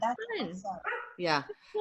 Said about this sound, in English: Oh, speaking of dogs, I don't know if you can hear my animals are outside saying,